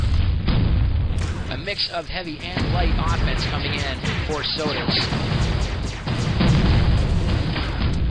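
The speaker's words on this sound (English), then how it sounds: "what you're hearing is the lovely sounds of the napalm-like explosions in the X flag room" Repeated mortar blasts and heavy booms from Starsiege: Tribes gunfire in a flag room, loud and dense throughout, overlapping each other under a commentator's continuous talk.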